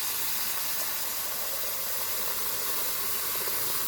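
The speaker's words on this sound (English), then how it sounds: "You hear the sizzle." Honey mustard chicken breast sizzles in a pan as a steady, broad hiss that stays even and close throughout with no talking.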